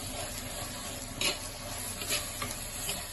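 Chilli and coriander masala for a homestyle mackerel fish curry is stirred in a pan, a quiet continuous sizzle with a few brief scraping strokes of the spoon, close by and without speech.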